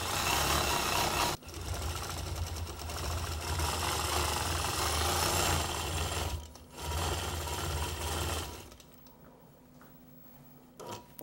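Longarm quilting machine stitching fabric, a steady fast mechanical hum with rapid needle chatter that runs loud and continuous, breaks off briefly twice, then drops to quiet near the end.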